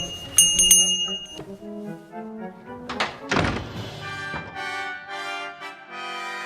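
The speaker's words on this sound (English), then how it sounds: "A bell." A bell rings in the point-and-click adventure game The Book of Unwritten Tales 2, a few bright struck tones near the start, then a heavy thunk and a long sustained ringing tail over a musical background.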